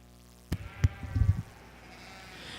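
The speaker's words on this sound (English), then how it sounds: "Good set of Hampshire ewe lambs on down through." Hampshire ewe lambs at a junior breeding sheep show at the Ohio State Fair, with a sharp bleat followed by a cluster of short, nearby bleats over faint arena background noise.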